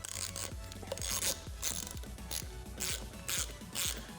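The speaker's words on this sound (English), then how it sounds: "And then just take your 9/16 ratchet." A 9/16 ratchet snugs the nut on a Minn Kota Ultrex trolling motor prop, giving about eight close, evenly spaced clicking strokes with faint rubbing between, and no talk.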